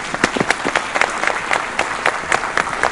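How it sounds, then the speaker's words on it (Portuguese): Applause from an audience at a trade fair and events forum, fairly close with individual claps distinct, a brisk irregular patter lasting a few seconds. "Uma salva de palmas."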